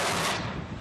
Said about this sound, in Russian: Кажется, зенитная установка.